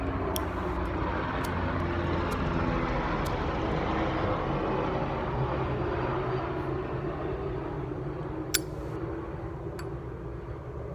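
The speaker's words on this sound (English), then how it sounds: "helicopter, I hope they're not coming to get me." A steady, low rumbling helicopter engine drone overhead in Atlanta, continuous and moderately loud throughout, with a couple of faint ticks.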